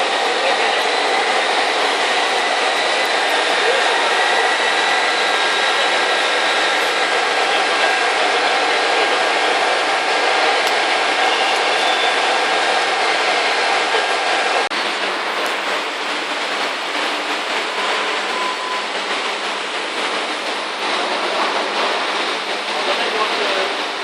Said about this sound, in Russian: Двигатель работает без изменений.